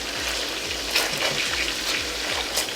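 Salmon fillets sizzle and brown in a hot pan, a steady crackling hiss with small pops and spatters throughout, close and moderately loud, with nobody talking.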